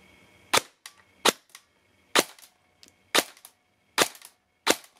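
An airsoft gun fitted with a 3D-printed air nozzle fires six sharp, loud, close shots at an irregular pace of roughly one per second, with softer mechanical clicks between them.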